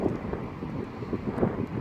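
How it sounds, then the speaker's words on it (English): Outdoors on a platform at Reading railway station on the Great Western Main Line, wind buffets the microphone in a steady low rumble with uneven gusty swells, lasting under two seconds with no voices. "I don't like the wind at all"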